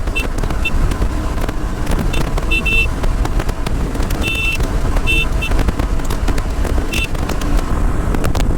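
A Royal Enfield Hunter 350 motorcycle runs at full throttle with a loud, steady engine drone mixed with heavy wind rush. Short intermittent electronic beeps cut through the roar.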